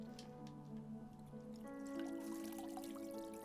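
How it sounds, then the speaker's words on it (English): Water from a watering can trickling and pouring as a character waters flowers in the RPG Maker game A Timeless Story, a soft steady stream over game music. "what is that water noise? Well, I guess it is him watering stuff."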